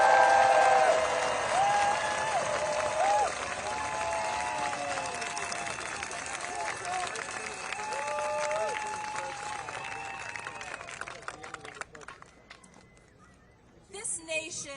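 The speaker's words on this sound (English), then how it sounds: "Please give a warm round of applause for Jessica Densson." Applause from a protest rally crowd greets a speaker, a steady broad wash of clapping with cheers and voices layered over it, fading down toward the end before a brief louder burst.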